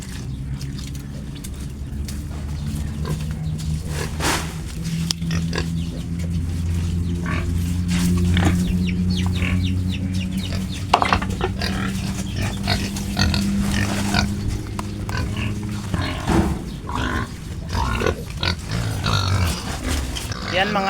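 A nursing sow and her piglets grunt, snuffle and chew continuously while eating water spinach on a farm, with crunching, squeals and clattering mixed in at close range.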